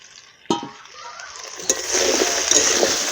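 Cut potatoes and vegetables drop into hot oil for a fish curry, a sharp splash followed by a growing, steady sizzle of frying close by, with light stirring clinks.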